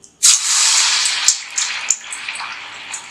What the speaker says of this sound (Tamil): எண்ணெய் காஞ்ச உடனே நம்ம வடை போட்டுக்கலாம்